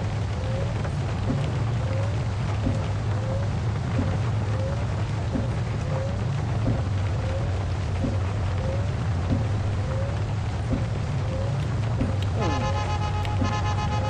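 Heavy rain in a Vietnamese minibus simulator game, a steady loud hiss of rainfall with low engine drone beneath, no voices.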